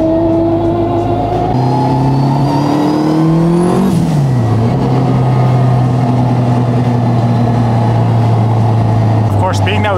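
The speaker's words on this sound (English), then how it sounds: "This car, it has exhaust sounds, it has turbo sounds," An all-wheel-drive turbocharged Honda with a straight-cut gearbox revs and shifts with a rising whine, the exhaust droning loudly and steadily throughout at close range.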